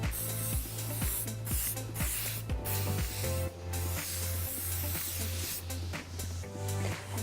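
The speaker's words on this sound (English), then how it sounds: "A final fix with some firm hold spray" Firm hold hairspray is sprayed over a finished wedding hairstyle in a run of short hissing bursts, close and fairly loud, over quiet background music.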